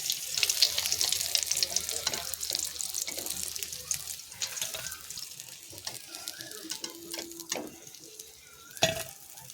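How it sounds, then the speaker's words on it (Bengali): Catla fish frying in oil in a pan, a continuous hissing sizzle close by, with occasional scrapes and clinks of a utensil near the end. "দেখো মাছগুলো ভালো করে ভেজে নিয়েছি লাল লাল করে"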